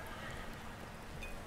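Faint, even rain ambience effect from Arkenforge hisses steadily as a soft wash of noise with no speech.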